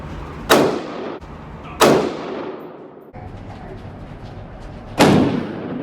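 Three sharp, loud gunshots from a Galil rifle chambered in 7.62 NATO, fired outdoors at uneven intervals, each crack followed by a short echoing tail, with no voices.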